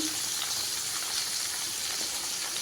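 Tomato and ridge gourd pieces sizzle steadily in a pan while cooking for a ridge gourd chutney, a close, even frying hiss with no breaks.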